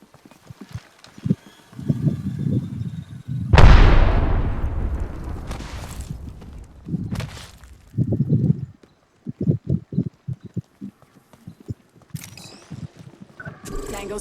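Artillery barrage in the Apex Legends video game: a sudden loud, booming blast with a long rumbling decay, followed by a fainter second impact, between stretches of short game voice lines.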